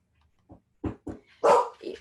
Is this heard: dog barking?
yes